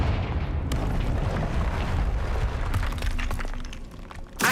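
A Confringo fire spell bursts in Hogwarts Legacy, a loud rumbling blast with crackling, shattering debris that sustains and then trails off into scattered cracks.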